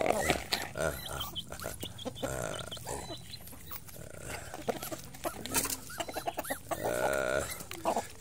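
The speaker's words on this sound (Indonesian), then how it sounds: "Ini ayam bangkok ini. Ini harganya jutaan." Bangkok gamecock chickens cluck and squawk nearby in a busy, irregular chatter, mixed with other farmyard noises and a bit of background voice.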